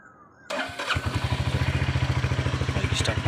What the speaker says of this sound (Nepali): बाइक स्टार्ट हुँदैछ हल्का है